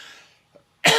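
A person with bronchitis gives a single short, harsh cough, close and loud, after a quiet moment.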